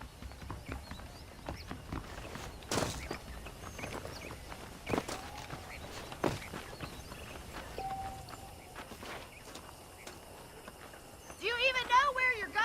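Horse hooves clip-clop at an unhurried walking pace over a quiet outdoor ambience in a Red Dead Redemption video game, with faint speech at moments.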